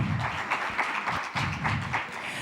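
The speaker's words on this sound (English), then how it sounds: "Another round of applause." An audience at the JA Africa Company of the Year 2023 opening ceremony applauds, a short burst of scattered, moderately loud clapping with uneven rhythmic claps close by.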